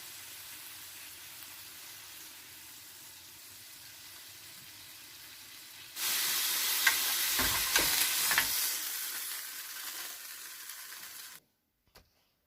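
Beef steak edges browning in a hot pan, a faint sizzle that swells into a loud, steady frying hiss with stirring scrapes before cutting off abruptly near the end.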